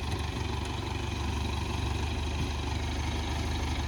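An MTZ tractor's diesel engine running steadily, a deep, continuous low rumble with an even throb that stays close and constant throughout, with no talk over it.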